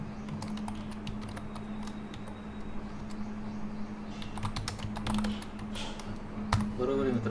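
Rapid clattering keystrokes on a computer keyboard run steadily throughout, close and fairly loud over a constant low hum, with a voice speaking faintly at times.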